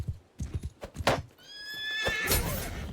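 A horse in the video game Bannerlord, quick clip-clop hoofbeats pounding up close before a loud, shrill whinny rises and trails off over rushing background noise.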